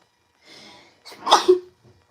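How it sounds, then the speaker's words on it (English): A single close sneeze from a man: a brief indrawn breath followed by a sharp, explosive burst with a short voiced tail, alone in a quiet room. "Hold on. I gotta sneeze."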